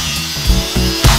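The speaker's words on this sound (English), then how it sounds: "I used an angle grinder to grind out some cracks and cut off the ends" Angle grinder working Damascus steel, grinding out cracks and cutting off the ends, a loud continuous high-pitched whine with a couple of brief surges as the disc bites, close up and without voices.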